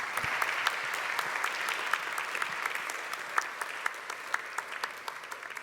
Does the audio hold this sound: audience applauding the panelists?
yes